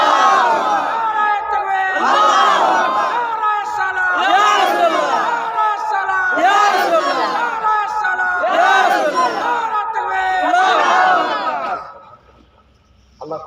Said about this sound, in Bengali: তাকবীর দান তো দেখি